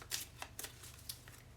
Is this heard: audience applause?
no